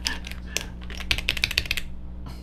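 Fast typing on a Feker K75 mechanical keyboard, a dense run of close, crisp key clacks with a few heavier thocks and brief pauses.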